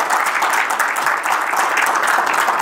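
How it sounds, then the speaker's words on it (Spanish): An audience applauds steadily to welcome a guest speaker at a talk on housing access, a dense, even wash of clapping that fills the whole moment without pause. "un aplauso para Manuel"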